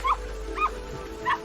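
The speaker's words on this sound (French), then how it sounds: "Ah, même le chien est triste." A sad dog whimpers in an anime episode: three short, high, plaintive yelps spaced about half a second apart, close and clear over a quiet low background hum.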